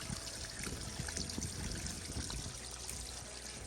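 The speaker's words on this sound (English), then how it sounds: "when I turn on the water here and the water draining down here into the little pond" Running water from a garden tap drains steadily down into a small garden pond, a close, continuous pouring trickle with no voices over it.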